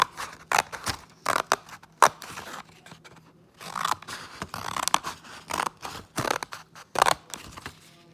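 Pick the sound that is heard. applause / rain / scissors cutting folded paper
scissors cutting folded paper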